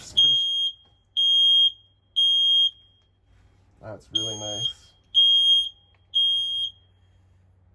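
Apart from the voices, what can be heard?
smoke detector alarm beeping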